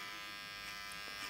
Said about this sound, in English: I'll put the shaver on it now as well.